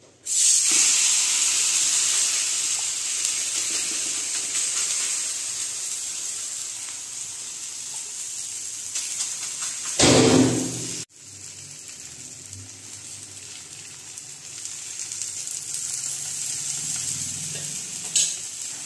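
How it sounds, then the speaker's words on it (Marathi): Ragi and drumstick-leaf thalipeeth fry on a hot pan with a loud, steady sizzle and hiss that lasts throughout, briefly surging and dropping midway, then settling into a quieter, even crackle. "चला आपण दुसरा बी धपाटा टाकून घेऊया."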